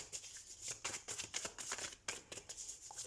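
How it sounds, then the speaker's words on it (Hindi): Tarot cards being shuffled, quiet rapid riffling flutters with soft slaps in an irregular rhythm, close up and faint. "तो सबसे पहले हम कार्ड शफल कर लेते हैं।"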